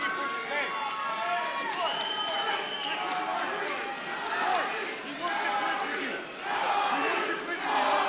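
A Samurai MMA 3 fight crowd at Kory Kelley vs Eddie Jackson cheers for Kory, a dense, steady roar of voices, shouts and yells that swells near the end.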